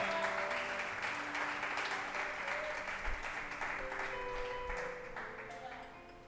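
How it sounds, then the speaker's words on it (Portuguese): A church congregation applauds during an evening service, a steady wash of many hands clapping that fills the room and slowly fades, with a voice speaking over it. "Aplauda o Senhor nesta noite,"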